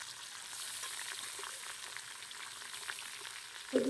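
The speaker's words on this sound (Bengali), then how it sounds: "মাছগুলো ভেজে নিচ্ছি মাথাটা।" Fish heads frying in hot oil for a murighonto, a soft steady crackle and sizzle, then a sharper burst of clatter or spatter at the end.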